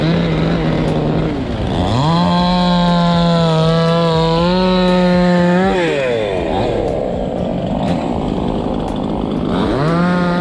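A chainsaw cuts a tree beside a road, its loud, close engine whining and revving up and down in long sustained surges, with brief dips between cuts.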